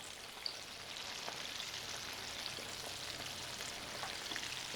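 Meat deep frying in hot oil, a steady close sizzle and crackle with scattered small pops throughout, no voices.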